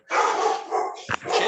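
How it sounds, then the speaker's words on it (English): A single sustained bark from a dog named Chippy, loud and close indoors, with a short sharp yip near the end. "Sorry, dog barking at nothing."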